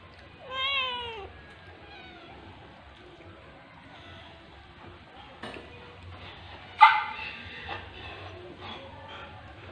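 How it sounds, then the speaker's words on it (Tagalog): A cat meows in a run of rising and falling calls near the start, then again more sharply later, with a dog yipping at moments and low background noise in a quiet setting. "Pusa."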